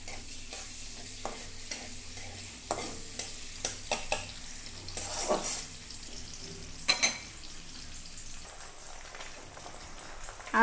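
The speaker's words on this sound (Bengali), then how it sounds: "তেল দিয়ে দিলাম, আবারও কিছু পেঁয়াজ কুচি দিয়ে দেব।" Chopped onion sizzles in hot oil in a pan, the start of a cabbage and egg fry, with steady frying crackle, several louder stirring scrapes and clatters, close and fairly loud, no talk.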